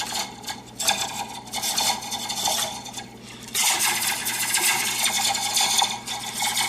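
A homemade laser-gun effect from a taped diaphragm being shaken, giving a loud, continuous metallic rattling shimmer that swells and jumps louder halfway through, with no voices.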